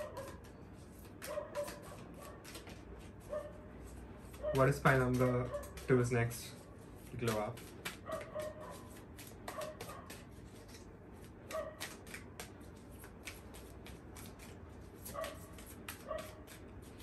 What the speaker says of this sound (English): I'm really sorry for the dog sound.